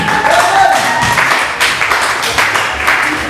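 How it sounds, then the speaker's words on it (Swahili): A church congregation at an album launch applauds in warm, scattered clapping that rises and falls in waves, mixed with some crowd murmur and brief voices. "Makofi kwako"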